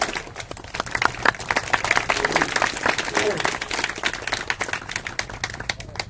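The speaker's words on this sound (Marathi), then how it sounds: "मस्त टाळ्या वाजवल्या तुम्ही" An audience claps after a poem recital about a farmer father, a dense burst of many hands applauding together that stays steady and fairly loud throughout.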